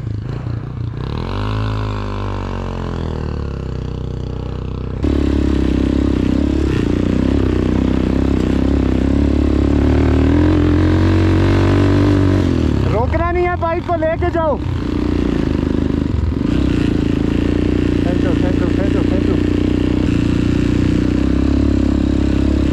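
A motorcycle engine labouring on a steep off-road climb in rough terrain, a loud sustained droning roar that rises and surges, with people shouting over it.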